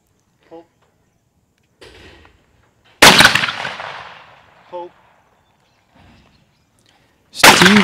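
Shotgun blasts at an Australian gun club during clay target shooting, one loud sharp report with a decaying tail mid-clip and another at the end, with faint voices between shots.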